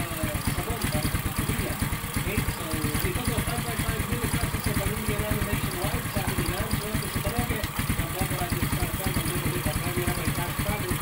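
A Honda XRM 110 motorcycle engine idles steadily after carburetor tuning, its rapid even firing pulses close and loud throughout, with a faint voice now and then.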